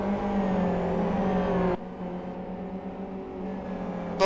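Super GT race cars pass into a chicane: a sustained engine roar that cuts off abruptly partway through, then a lower, steadier drone, heard from a distance with no talking.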